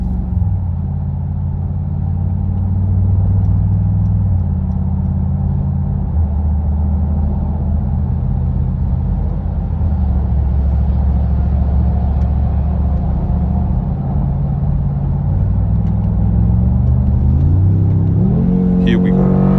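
A Mercedes-Benz G63 AMG cruises on the autobahn, its loud, steady engine and road rumble droning close and constant, with the revs climbing sharply at the end as it accelerates hard.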